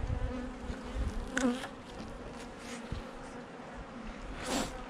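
Steady buzzing of honeybees from a small swarm, close by, with a louder pass near the middle and again at the end.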